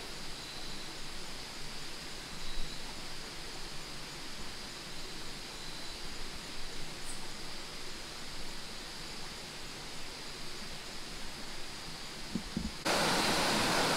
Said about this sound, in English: we're by a waterfall